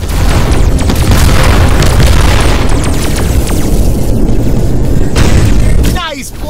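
Homing bombs in the Voltron VR Chronicles video game blowing up against an enemy bomber: a rapid barrage of loud, overlapping booms and bursts that rolls on for several seconds, then cuts off abruptly.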